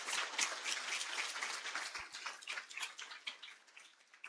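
Faint, steady applause from a conference audience, dense patter of many hands clapping continuously for several seconds at a distance, with no talking over it.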